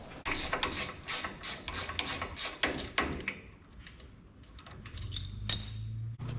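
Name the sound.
14mm ratchet spanner undoing a suspension nut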